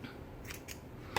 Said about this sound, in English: There's my scissors.